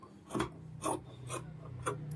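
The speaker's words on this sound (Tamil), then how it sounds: "இந்த ஸ்லீவ்க்காக இருந்த பீஸ் வந்து கட் பண்ணி எடுத்துக்கலாம்" Cotton saree fabric is cut to make a blouse sleeve piece, producing four evenly spaced scissor snips, close and moderately loud over a faint hum, with no speech.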